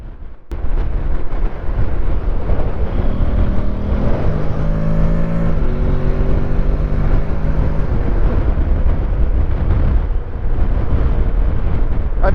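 Honda NC750X DCT motorcycle with its stock exhaust rumbles loud and close while riding, a steady engine drone whose pitch climbs and shifts midway, under heavy wind roar.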